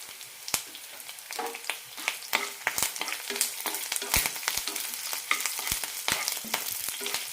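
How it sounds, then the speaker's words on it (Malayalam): Curry leaves drop into hot oil with red chillies and garlic for a tomato garlic chutney, crackling and spitting in sharp irregular pops over a constant close sizzle, with no voices. "കുറച്ച് കറിവേപ്പില ഇടാം"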